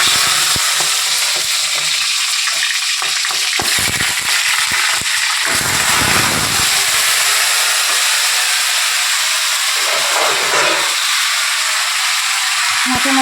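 Loud, continuous sizzling and spattering as fish heads fry in a hot pan, close and intense, with occasional stirring sounds throughout.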